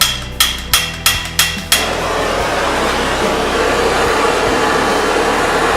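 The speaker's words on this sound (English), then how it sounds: "I'm just going to preheat the bottom a little bit and then shoot the flame down in it and it should ignite." Torch flame roaring steadily while preheating the bottom of a waste oil burner, after several sharp metallic knocks at the start, with a continuous loud broadband hiss throughout.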